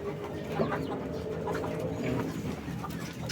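Breeder chickens and two-month-old chicks cluck and murmur in a backyard coop, a continuous overlapping chorus of close and distant calls.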